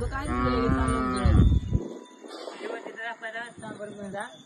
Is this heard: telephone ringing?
no